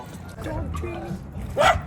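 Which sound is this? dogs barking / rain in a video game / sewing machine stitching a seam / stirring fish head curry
dogs barking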